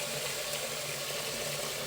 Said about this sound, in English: let us add more water to this